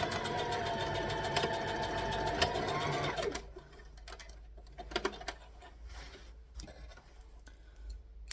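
A sewing machine runs in a fast steady burst stitching a fabric library bag, then stops, leaving quiet handling clicks and light taps.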